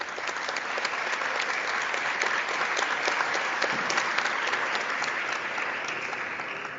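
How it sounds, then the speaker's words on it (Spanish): An audience at a public forum on the constitution, economy and environment gives sustained applause, an even wash of many hands clapping at moderate volume from start to finish. "Además, le damos un fuerte aplauso también."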